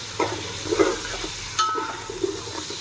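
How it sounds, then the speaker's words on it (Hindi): Onions being stirred as they fry in a pan for a mutton dish, with a few soft scraping strokes over a low, steady sizzle. "कांधा पड़ चुका है अभी कांधा को थोड़ा चला देंगे"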